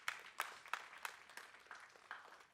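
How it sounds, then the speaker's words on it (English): Faint, scattered applause from a conference audience, a handful of soft separate claps spaced unevenly and fading out, thin and distant with no talk over it. "That was the most sheepish like clap of all time."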